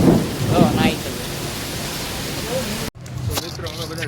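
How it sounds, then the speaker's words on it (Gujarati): Heavy rain pours during a thunderstorm in Surat, a loud, steady roar with rumbling under it. A voice speaks briefly at the start, and the sound cuts off abruptly near the end before resuming more quietly. "જો આ વરસાદ કેવો સુરતનો વરસાદ પાણી કરી નાખ્યું."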